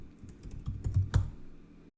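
A short run of soft, close keystrokes on a computer keyboard, several taps in quick succession, then a brief pause.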